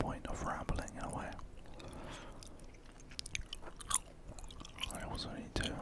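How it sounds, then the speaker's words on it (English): Gum chewing with soft wet smacks and clicks near the microphone, mixed with intimate whispering in a quiet late-night setting, irregular mouth sounds rising and falling between whispered phrases. "we're just going to be doing some gum chewing and whispered rambling"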